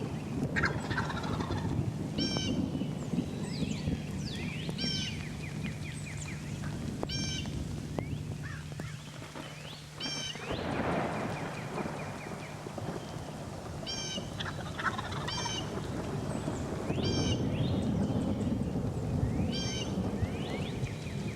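Wild turkeys gobble repeatedly in short rattling bursts during a severe lightning storm, several birds calling near and far over a steady roar of heavy rain, with no talking.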